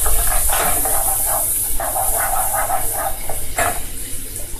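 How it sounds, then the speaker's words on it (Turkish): Couscous fries in butter in a pan, giving a loud, continuous hissing sizzle with rhythmic bursts of crackle, heard up close. "Biraz da besel yağıyla birlikte kavuruyorum."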